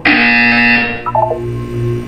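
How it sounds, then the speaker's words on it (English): A loud, harsh electronic buzzer from the video game Portal 2 blares steadily for about a second, then gives way to a few short tonal blips and a lower hum. "When you hear the buzzer, look down at the floor"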